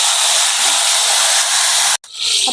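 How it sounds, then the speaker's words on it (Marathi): Eggplant sautéing in hot oil with cumin and mustard seeds for a Maharashtrian green-masala vangi bhaji gives a loud, steady broadband sizzle that drops out abruptly near the end, then resumes. "वांगी आता आपल्याला दोन ते तीन मिनटे परतून घ्यायची आहे तेलामध्ये परतून घ्यायची"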